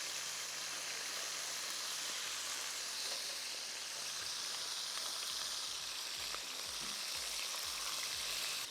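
Lemon pepper chicken wings fry in oil with a faint, steady hiss and crackle, like light rain, plus occasional soft knocks as the pieces are turned.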